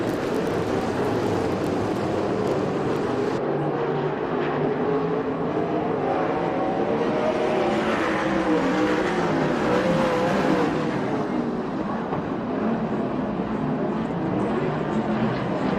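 Sprint cars race at Manzanita Speedway in a USAC/CRA event, a steady loud roar of several engines revving and droning through the whole stretch, with a commentator talking over it.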